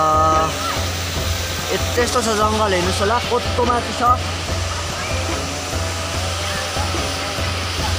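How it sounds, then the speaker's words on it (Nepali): A forest waterfall pours down from above into a stream, a loud steady broadband rush under someone speaking close to the microphone. "यो झर्नाहरू आएको हेर्नुहोस् होला ऊ माथिबाट झर्ना आउँदैछ"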